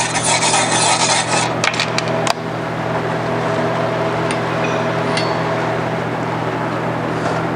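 Large stainless steel wire brush scrubbing metal before TIG welding, a steady close rasping scrub that cuts off after a couple of seconds into a quieter hum with light clicks.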